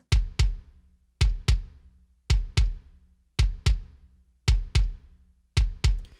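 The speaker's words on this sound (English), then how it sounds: "There's also a kick sample on this track, which sounds like this." Punchy kick drum hits in pairs, repeating in a steady pattern, each with a sharp attack and a short booming low tail, alone and clear.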